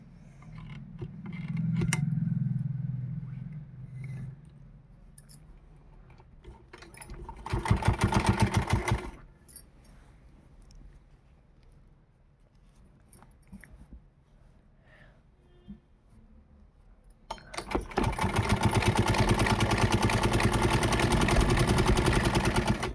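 Sewing machine stitching a velvet suit, running in two bursts, a short one about two seconds long and a longer steady rapid whir near the end, with quiet handling sounds and a voice in between.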